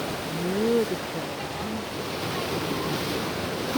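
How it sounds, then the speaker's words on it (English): Ocean waves wash onto a beach in a steady, broad roar with wind buffeting the microphone, and a brief voice-like sound rises faintly near the start. "The sound of waves."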